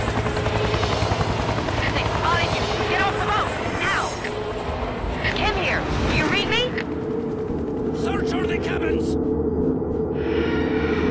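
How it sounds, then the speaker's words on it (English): A helicopter in the video game XIII hovers with a steady rotor drone throughout, loud and close, while people talk over it and bursts of game action cut in near the end. "The helicopter."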